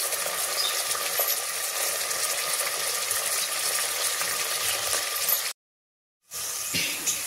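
Onion, green chilli slits and curry leaves sizzle with popped mustard seeds and a little salt in hot oil, a dense, steady crackling fry that cuts out briefly near the end and then resumes.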